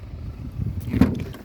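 A 2015 BMW 520d M Sport Auto with 88k miles has its boot opened: a low mechanical shuffle builds to one soft thud of the lid releasing, close by, with no talking.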